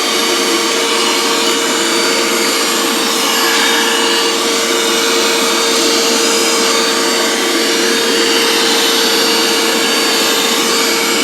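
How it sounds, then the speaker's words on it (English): A handheld cordless vacuum cleaner runs close by, producing a steady, loud, even whir with a constant motor whine and no pauses or talk. "the vacuum is pretty good, the way this end is designed, it just lets too much vacuum seep out"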